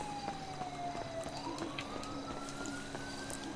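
A police siren in GTA V wails faintly in the distance, its tone sliding slowly down and then up across a busy hum of game traffic and ambient noise.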